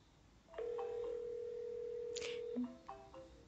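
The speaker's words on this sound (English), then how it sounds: "Now I'm going to make an incoming call to this dialer." An incoming call rings through a Twilio auto dialer as one steady electronic phone tone lasting about two seconds, followed by a short lower blip, heard alone over a quiet background.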